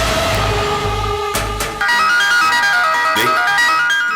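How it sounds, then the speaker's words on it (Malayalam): A mobile phone ringtone plays loudly as a repeating electronic melody of bright beeping tones, with a low droning layer underneath during its first half. "ഫോൺ റിങ് ചെയ്യുന്നു."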